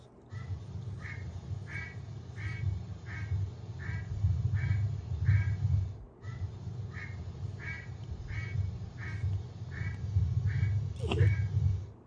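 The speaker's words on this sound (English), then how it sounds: "That was a duck." A duck quacks in a long, evenly paced series of nasal calls, two runs separated by a short pause, clear over a steady low rumble.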